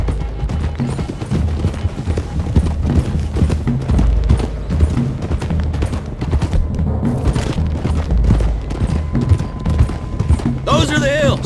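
Horses gallop in Red Dead Redemption 2 with a steady, loud rumble of hoofbeats mixed with thuds and game sounds, and a voice briefly at the end.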